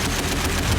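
A tank cannon fires in the World of Tanks game during a Sherman versus T-34 matchup, a loud, dense, continuous blast of broadband noise filling the short moment.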